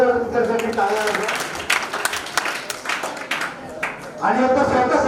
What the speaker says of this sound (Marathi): तर पुढे एकदा मान्यवरांसाठी जोरदार त्यांच्यासाठी टाळ्या वाजवा.